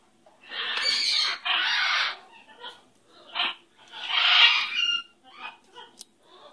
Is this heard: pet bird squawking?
yes